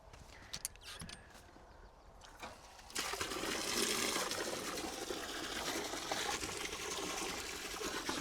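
Piped spring water from a tank up a small gully runs and gushes steadily from a pipe, with a few faint taps and knocks at first before the flow grows louder and fuller at about three seconds and keeps going.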